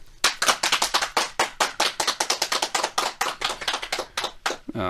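At a Christmas health lecture on type 1 diabetes, the audience gives loud, steady, near clapping in an even rapid rhythm for several seconds, and a voice starts just as it ends.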